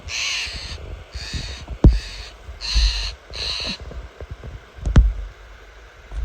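Wild birds at Cape Scott give a series of harsh, croaking calls in five evenly spaced bursts, fairly close and clear, with a couple of sharp knocks between them and no talking.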